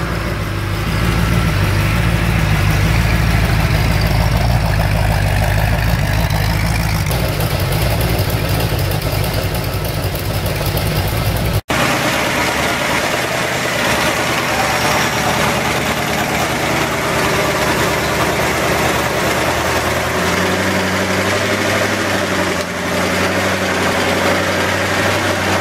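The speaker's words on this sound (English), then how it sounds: "Overhead noise, that'll be from the lifters." A car engine on a makeshift running stand idles steadily, close and loud, with a low rumble; after a brief break the idle continues with lighter ticking from the lifters above the engine.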